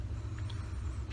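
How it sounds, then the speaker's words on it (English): A train rumbles past in the background, a steady low drone that holds at a constant level for the whole moment with no speech over it. "sorry if you hear the train in the background"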